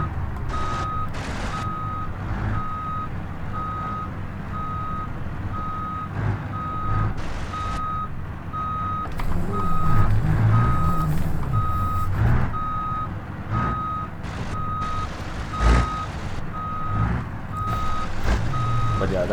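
A truck in reverse gear backing a trailer, sending out a steady series of evenly spaced electronic reversing beeps over a low diesel idle, with occasional clanks and bumps.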